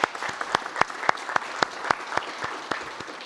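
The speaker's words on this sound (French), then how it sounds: "on peut vous applaudir." Applause at a French trade conference on retail property, with sparse, sharp individual claps from a smallish audience in a loose, uneven rhythm, fairly close and steady throughout.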